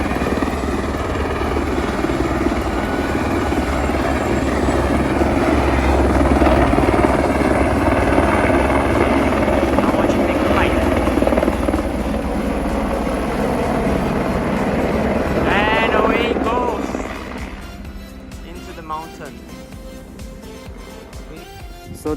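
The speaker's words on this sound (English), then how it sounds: "So the helicopter was headed to Kalapata" A helicopter flies through mountain valleys on the way to Kalapatthar near Everest, a loud, close, steady rotor thrum and engine roar that holds for most of the clip before dropping off sharply toward the end.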